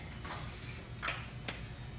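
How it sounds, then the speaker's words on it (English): Cooking spray hisses from a can onto a quesadilla in a kitchen, a soft half-second spray followed by two shorter bursts, faint and close with no talking. "take a little cooking spray"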